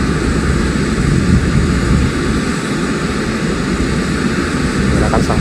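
A presidential aircraft's engines roar as a loud, steady wash of noise that holds evenly throughout, with no voices over it.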